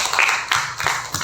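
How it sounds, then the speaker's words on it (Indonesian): Students in a classroom give a short round of clapping, a few close, sharp claps in a loose rhythm over about a second. "Oke, tepuk tangan untuk semuanya."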